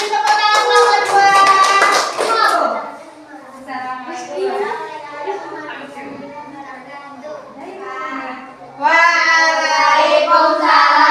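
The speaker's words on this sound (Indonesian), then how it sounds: "Tepuk tangan kelompok 2." A classroom group claps briefly in a quick burst at the start, then voices talk, with a short loud burst of chatter near the end.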